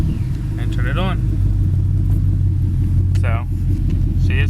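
A car running an SCT X3 tune idles at about 750 RPM: a steady, close, low engine rumble throughout, with someone talking over it.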